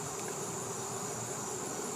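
A faint, steady buzz of insects hums without a break at an open honeybee hive, with a constant high tone layered over a soft background.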